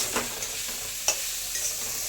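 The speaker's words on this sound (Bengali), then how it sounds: "আর এদিকে আলু ভাজাও হচ্ছে" Potatoes fry in hot oil with a steady hissing sizzle, broken by a few sharp stirring scrapes and pops; no voices.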